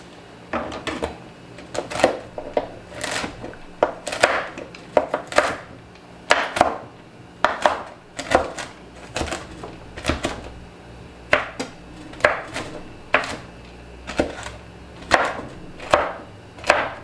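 A knife chops carrots on a cutting board for homemade hot giardiniera relish: a long run of crisp, close, evenly repeated chops with short pauses between bursts, heard alone.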